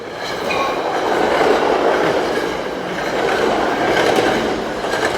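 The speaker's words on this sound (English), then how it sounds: "The train is right in back of the gym." A train rolls past directly behind a gym, a steady broadband rumble with rhythmic clickety-clack of wheels on rail, loud and close throughout without any talk.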